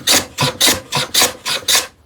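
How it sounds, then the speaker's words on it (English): A sharpened No. 4 hand plane shaves end grain on wood, seven rhythmic rasping strokes close up, each a bright swish with a short gap between, alone without talk. "This number 4 is properly sharpened, so it's cutting end grain just like my low angle piece"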